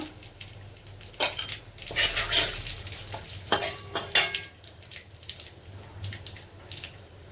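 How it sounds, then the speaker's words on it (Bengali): Cumin, a bay leaf and a dried chilli crackle and spit in hot oil for tempering, a dense close sizzle broken by several louder clanks and scrapes of a spoon against the pan. "ফোড়নে দেবো জিরে, তেজপাতা, একটা শুকনো লঙ্কা"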